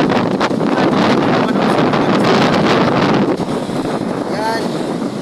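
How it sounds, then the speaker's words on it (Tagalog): Strong typhoon wind by the sea with big waves roars and buffets the microphone in a loud, continuous rush, with someone talking partly under it. "Sobrang lakas ng hangin dito guys."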